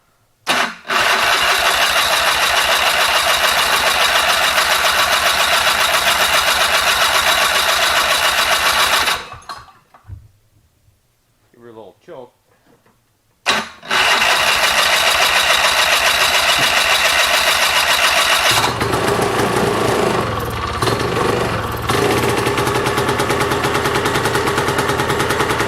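A SnoJet snowmobile engine fires and runs loud and close with a rapid buzzing rattle, cuts out into near silence with faint clicks, then restarts and keeps running steadily with a slight change in tone near the end.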